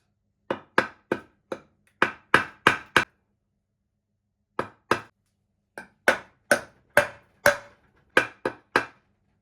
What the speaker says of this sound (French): on prend un petit marteau, une petite massette, et donc on vient tapoter gentiment